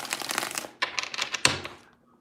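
Tarot cards being shuffled by hand in three quick bursts of riffling and slapping, soft and close, the final shuffle ending in a light tap before quiet.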